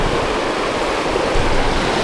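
Water falls from rocks at a waterfall, a steady loud broadband rush without pauses, nearby and alone.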